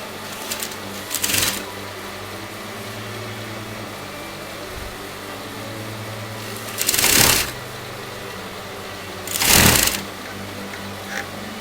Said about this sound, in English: I'm going to lay it like this, and I'm going to sew this together.